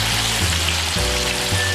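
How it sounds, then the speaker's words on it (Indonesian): Tofu fries in hot oil for a Minang-style dish, giving a steady, dense sizzle and crackle that stays loud and close throughout. "Nah, sekarang kita goreng tahunya ya."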